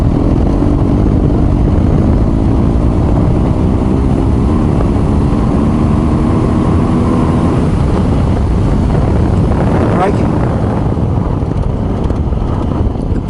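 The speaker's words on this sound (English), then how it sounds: "Let's roll the throttle on and see what happens." A BMW R1250 GS Adventure motorcycle on the road as the throttle is rolled on, the engine note climbing steadily in pitch beneath heavy, constant wind roar.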